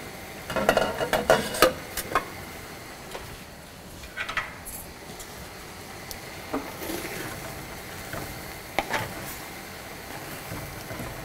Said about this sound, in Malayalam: ഒന്നുകൂടി നമുക്ക് ഇളക്കി കൊടുക്കാം.